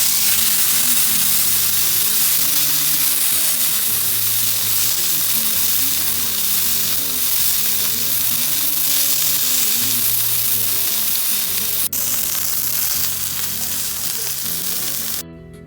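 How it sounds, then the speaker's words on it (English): A ribeye steak sizzles in olive oil in a hot cast iron skillet, giving a loud, dense and continuous crackling hiss that holds steady for about fifteen seconds, close up and with no voices over it. "then I place the beautiful steak on there. I'm gonna let you hear the sizzle for this one."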